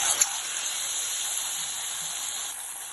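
Batter-dipped papad pakora sizzling in hot oil, a steady bright hiss of frying that holds evenly for a few seconds with no voices over it.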